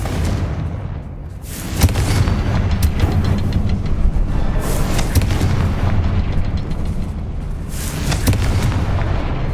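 A Confringo fire spell cast in Hogwarts Legacy, a loud, sustained blast of booming, explosive roar with crackling bursts, swelling near the start and holding dense and forceful throughout, with no talking.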